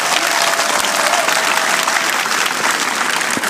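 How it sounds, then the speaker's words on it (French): Loud, steady applause from an audience at a political rally in Anoumabo, a dense sustained clapping that fills the whole stretch without pause. "Applaudissez encore Nelson Mandela."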